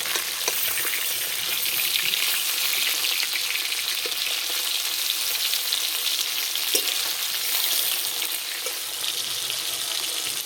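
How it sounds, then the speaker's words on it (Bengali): Steady, loud sizzling of tilapia frying in hot oil, a continuous crackling hiss with a few faint clinks, no voices. "ওদিকে মাছ ভাজা হতে থাক"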